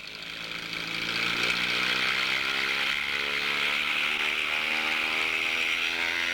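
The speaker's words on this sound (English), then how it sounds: "You'll notice the engine will reach full RPM long before the throttle is wide open." A small engine screams at full RPM during carburetor tuning, a steady high-pitched whine with strong harmonics that rises from a slightly quieter start and then holds loud and close, with no talk.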